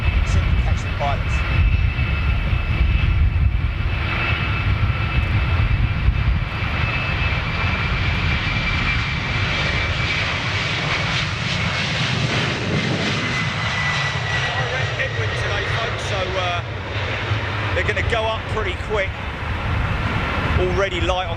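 A jet airliner takes off, its engines roaring loud and steady throughout with a sustained whine, heard from a distance with a voice talking over it.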